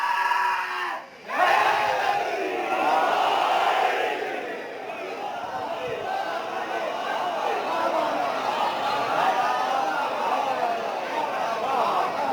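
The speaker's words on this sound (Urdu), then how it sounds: "دونوں ہاتھ بلند کر کے پوری طاقت سے نعرے کا جواب دے گا" A large crowd at a religious gathering roars a loud, sustained slogan response in unison, voices blending into a continuous swell after a brief pause.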